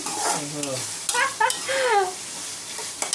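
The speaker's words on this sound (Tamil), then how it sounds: "ஃப்ரை ஆகுது" Crispy masala fish sizzles steadily in a frying pan, a soft hissing bed beneath voices talking close by.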